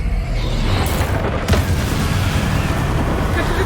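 A Bombarda spell explosion in the video game Hogwarts Legacy: a dense, rumbling boom with a sharper burst near the middle, sitting over continuous heavy low-end noise.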